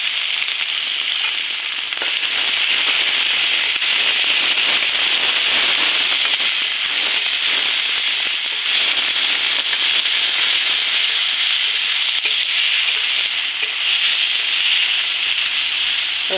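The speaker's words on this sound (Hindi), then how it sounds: "थोड़ा सा प्याज मैं भून लूँगी" Chopped onion and bay leaves fry in oil for an egg curry, producing a loud, continuous, dense sizzle with fine crackling that holds steady throughout, close and unbroken by talk.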